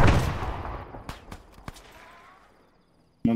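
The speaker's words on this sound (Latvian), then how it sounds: "Es izšauju viņam to šāvēju." Gunfire in the military shooter game Arma 3: a loud opening blast with a long decaying rumble, followed by several sharp distant shots spaced apart, then quiet before another abrupt report at the end.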